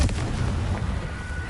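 A Confringo explosion spell in Hogwarts Legacy goes off as a short, close, booming blast with a rumbling low tail, heard alone without talk.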